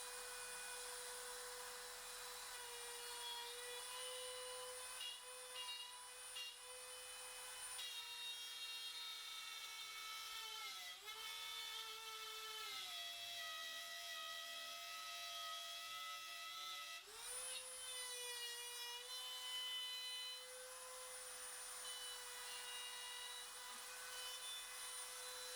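Power tool cutting a stopped dado in wood for a computer cabinet's top shelf, a steady high whine that dips in pitch as the blade bites into the workpiece, then recovers, continuous throughout.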